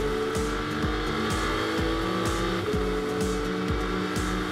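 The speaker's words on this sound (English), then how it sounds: "Dan Harper attacked for place after place and moved himself up the order" GT race cars at speed on the Donington circuit during a British GT Championship race, engines roaring loud and continuous with repeated downshift and revving pulses as cars pass close by.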